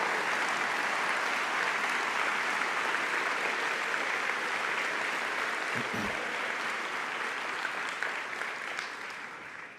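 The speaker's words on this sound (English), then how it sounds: "So if you do me a favor and we can give them an applause too." Sustained applause from a large audience at a university valedictory address, a dense steady wash of clapping that holds loud and even for nearly ten seconds before easing slightly at the end.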